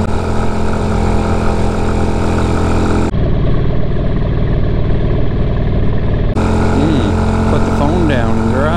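A vehicle engine with a modified exhaust drones steadily and loudly during an off-road drive, a constant rumble with strong harmonics that shifts tone partway through and carries on without a break.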